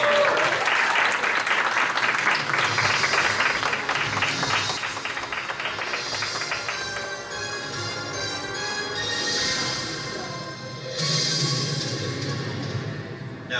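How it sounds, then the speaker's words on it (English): A crowd claps loudly and steadily at a convention game show as a contestant team comes up, the applause fading and swelling again with a few bell-like tones ringing over it. "Give a round of applause"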